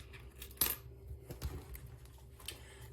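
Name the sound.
loose coins dropped into a coin jar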